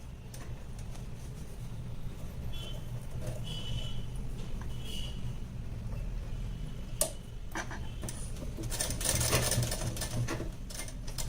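A sewing machine stitches a blouse, a faint, quick mechanical ticking and whirring in short bursts close by in a quiet room, with a louder rattle near the end.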